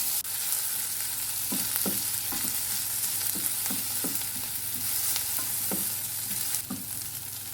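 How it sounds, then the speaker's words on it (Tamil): Onion and green chillies sauté in a pan for jeera rice and dal tadka, a steady sizzle with a run of soft spoon scrapes and stirs spread across the clip, no voices. "இப்போ வெங்காயம் சேர்த்துட்டு வதக்கி விட்டுக்கலாம்"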